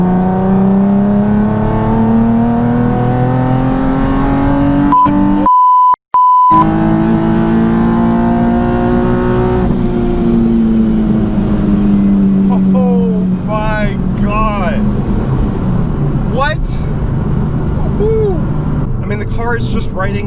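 Engine note of a Nissan Z car with a charger kit, a loud continuous drone that climbs steadily in pitch through a hard pull, briefly interrupted by a shift, with a voice talking over it later.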